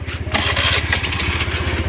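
A small scooter motorbike engine putters close by in a rapid, even rhythm, a short loud burst of running just after starting, with no talking over it.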